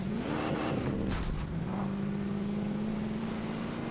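A car engine drones on continuously while driving down a road, a steady close hum with a slight rise in pitch, and no talking over it.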